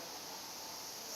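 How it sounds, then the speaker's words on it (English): Cicadas droning at Kochi Castle in Japan, a steady, even high-pitched buzz that holds unbroken and fairly faint throughout. "We were only getting bombarded by the sounds of the cicadas."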